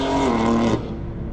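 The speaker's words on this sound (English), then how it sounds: "Super satisfied with the exhaust. I think it sounds really good." A BMW S55 engine with a valvetronic equal-length exhaust heard from outside the car, a loud, close, droning exhaust note that cuts off sharply partway through.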